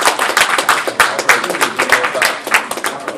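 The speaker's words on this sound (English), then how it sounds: "Yourself a round of applause," A class of children claps together in a round of applause, dense overlapping hand claps close by and loud, steady throughout with a few sharper individual slaps standing out.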